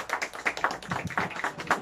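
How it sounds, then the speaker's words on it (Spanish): Applause at a birthday mariachi performance, a small group of guests clapping close by in quick, irregular claps for a couple of seconds. "Y ese aplauso bonito, por favor"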